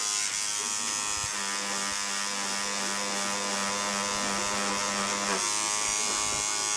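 A direct drive tattoo machine buzzes steadily through color work, a close, even electric whine that holds for about four seconds before cutting back to a lighter hum, with no voices.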